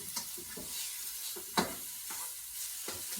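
Garlic turkey stir fry sizzling steadily in a pan, a soft hiss broken by occasional stirring scrapes and a single sharper clatter, fairly quiet with no talking.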